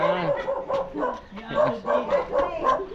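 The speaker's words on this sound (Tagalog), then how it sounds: "Aso din dito." A dog barks and yips in a quick, uneven series near the listener, mixed with what sounds like people speaking Tagalog.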